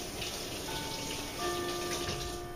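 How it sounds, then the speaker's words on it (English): Tap water runs steadily over hands being rinsed at a kitchen sink during pizza dough making, a soft continuous splashing close by with no talking. "So let me rinse my hands real quick here."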